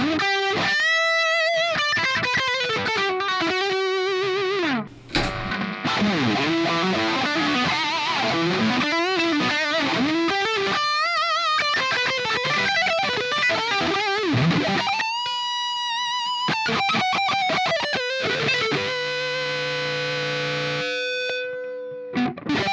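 Electric guitar lead played through a Gokko boost and overdrive pedal, driven and sustaining with bent notes, fast runs and held tones, loud and close for over twenty seconds with a brief gap near the middle.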